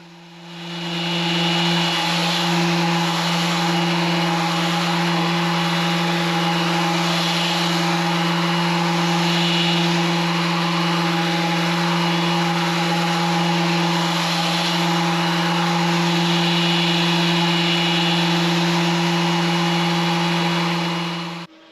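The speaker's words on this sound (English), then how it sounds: "and then start sanding" A power sander working over a wooden cutting board, a loud steady motor drone with a constant hum and a broad abrasive hiss that runs unbroken for about twenty seconds, no voices.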